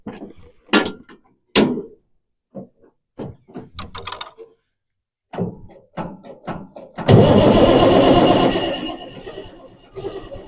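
An Allis-Chalmers tractor engine cranks and fires up on a farm, a loud roaring burst that settles into idling after several short thumps and clanks, with someone speaking briefly beforehand.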